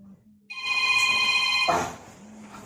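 A telephone rings in one sustained electronic burst of bright tones that lasts about a second and a half, then cuts off and leaves a quiet room with a low background hum.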